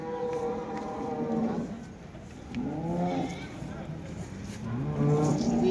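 Cows low at a busy village cattle market where dairy cows are sold, with several moos under continuous nearby talk and crowd noise.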